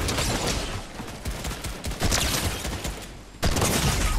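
Rifle fire in a video game comes as rapid bursts of gunshots. The volleys are loud and crackling, with short lulls between them and a sharp fresh burst near the end.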